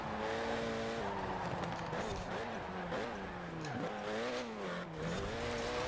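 A 2008 Renault Mégane R26-R in Forza Horizon brakes hard, its engine pitch dropping and wavering while tyres squeal through the corner, a continuous loud motor note with someone talking over it.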